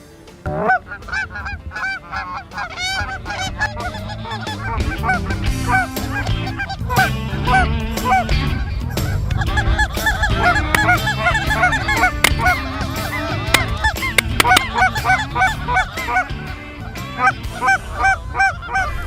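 Geese honk loudly and continuously in a large flock during a goose hunt, overlapping calls near and far forming a dense clamor that swells and persists throughout, with no talking.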